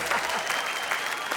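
An audience at a Hindi poetry recital claps after a poem ends, a moderate, steady patter of applause with a voice faintly audible beneath it.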